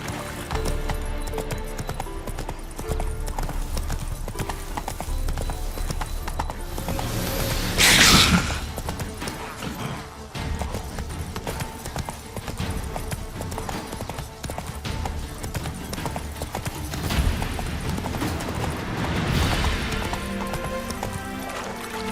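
In The Witcher 3, the horse Roach trots along with steady clip-clopping hooves over a continuous bed of game music and ambience, plus a brief louder swell partway through.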